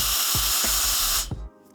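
A pocket electric air blower runs at high speed, a steady loud hiss with a low pulsing motor buzz, then cuts off abruptly near the end.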